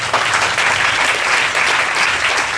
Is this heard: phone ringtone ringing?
no